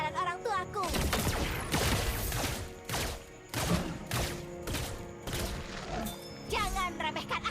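Rifle fire from the hero Layla in the Mobile Legends mobile game crackles in rapid bursts and repeated sharp shots, with game effects and occasional voice lines mixed in.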